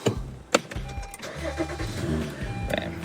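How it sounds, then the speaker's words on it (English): A Honda Accord engine cranks with a sharp click, catches and settles into a steady, close mid-pitched idle. "Bam, car starting."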